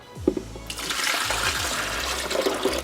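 Water pours steadily into a Frigidaire or Silonn portable ice maker, a continuous rushing, splashing flow that starts after a brief thump and runs close and fairly loud to the end.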